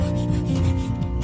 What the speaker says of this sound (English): we are going to take a 240 grit file, just file the sides very gently.